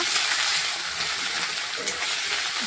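Ginger paste frying in a pan for a thin Jeol fish broth, a steady bright hiss of sizzling oil throughout, close and fairly loud, with a faint stir or two.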